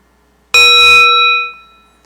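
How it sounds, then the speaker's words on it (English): A single memorial bell strike at an awards ceremony: one loud, clear metallic ding with bright ringing overtones that decays over about a second and a half, heard alone. "we'll have a ringing of the bell for each one"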